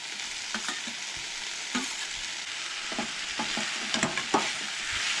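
Soya chunks sauté in a pan with ginger-garlic paste and tomato for a Goan egg curry, a steady close sizzle broken by repeated scraping stirs of the spatula.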